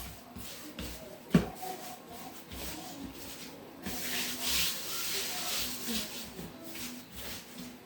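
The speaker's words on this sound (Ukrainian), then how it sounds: "Все, ми трошки домісили, сильно я борошно не вмішую." Cinnamon-roll dough is kneaded by hand on a floured surface, giving soft, faint rubbing and shuffling sounds with a single thump near the start.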